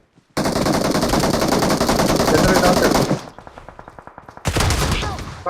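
Rapid, continuous automatic gunfire in the mobile battle-royale game BGMI (PUBG Mobile) rattles loudly for about three seconds, drops to a quieter stretch of separate shots, then erupts into another dense burst.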